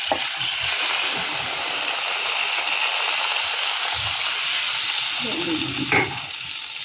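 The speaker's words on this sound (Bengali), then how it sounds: "কষা হয়ে গেছে মশলাটা। এবার আমি জল দিয়ে দেবো।" Water poured into a pan of fried spice masala for a fish curry, hissing and sizzling steadily up close, with a brief louder burst near the end.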